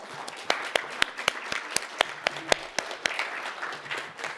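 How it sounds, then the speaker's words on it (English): An audience at a talk on the well-being of Black women breaks into a round of applause, sharp individual claps standing out near the front over a softer, scattered wash of clapping that gradually thins. "I want to give us a round of applause."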